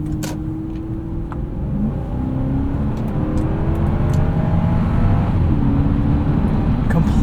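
A 2005 Lexus SC 430 driven on the road with its 5-speed gearbox, a steady engine hum rising and falling smoothly through seamless shifts as road noise builds, with someone talking over it.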